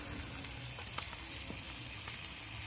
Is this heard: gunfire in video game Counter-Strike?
no